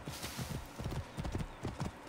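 Horse hooves clip-clop at a steady trotting rhythm in the Assassin's Creed Origins video game, close and clear but fairly quiet, with no talking over the sound.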